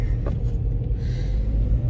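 A car engine with a warning sensor on idles rough with a heavy low rumble and uneven throb, close and continuous with no voices.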